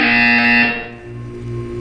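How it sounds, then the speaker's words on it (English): A loud, steady electronic buzzer tone from Portal 2 drones on, harsh and sustained, dipping briefly before continuing at a slightly lower pitch. "When you hear the buzzer, look up at the ceiling."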